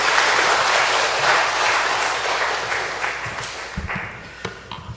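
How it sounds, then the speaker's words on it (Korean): A church congregation applauds to welcome the preacher at a Sunday afternoon Methodist service, full clapping at first that gradually thins and fades, with a few scattered louder claps near the end. "우리 박수로 말씀 청하겠습니다."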